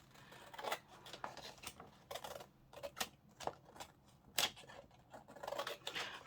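Scissors snip repeatedly through sticky paper while pages for a big handmade journal are being made, producing quiet, irregular crisp cuts and rasps close by with no talking.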